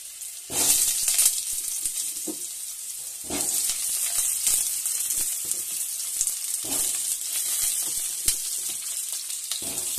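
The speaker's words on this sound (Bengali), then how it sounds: "তো এই কেটে রাখা আলুগুলো আমি ভেজে নেবো এবার।" Cut potatoes sizzle and fry in hot oil in a wok, with a steady loud crackle throughout and occasional bursts of spattering and stirring, no voices.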